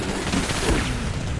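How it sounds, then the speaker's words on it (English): An auto turret in Batman Arkham Underworld blasts at a barricade, a dense, loud burst of rapid gunfire with booming impacts, continuous over a moment. "I'm going to see if I can get the auto turret to shoot his barricade"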